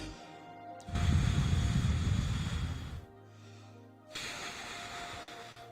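Air blown through an open lip aperture as for a trumpet, a steady breathy hiss lasting about two seconds, followed by a quieter second airy blow after a short pause.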